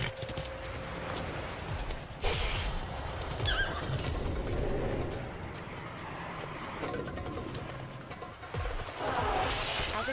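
Horse neighing and whinnying with clip-clop of hooves, joined by cooing pigeons or doves in an outdoor setting; moderate level, with a few sharper bursts and no speech.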